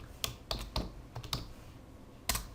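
Several sharp keystrokes on a computer keyboard in a quiet room, a few single taps spaced apart followed by one firmer press near the end, like hitting Enter.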